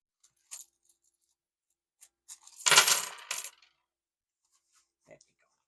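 Canadian loonie and toonie coins, five dollars in all, drop and clatter together in one short cluster of metallic clinks, with a few faint isolated taps before and after, close and quiet.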